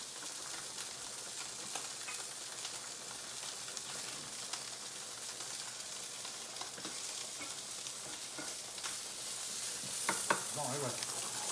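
Tomatoes go into garlic frying in a pan, raising a loud bright sizzle with scraping stirring strokes throughout, the hiss swelling near the end.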